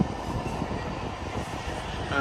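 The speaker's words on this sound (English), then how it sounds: "There's an Elizabeth line train heading towards Paddington." An Elizabeth line train runs toward Paddington near Willesden, giving a steady broadband rumble that holds throughout at moderate distance and swells slightly at the end.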